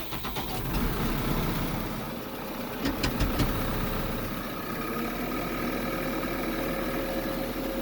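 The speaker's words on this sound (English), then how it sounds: "Tractor going here." A tractor engine idles steadily nearby while warming up, a low rumbling drone with a few brief clanks partway through, no voices.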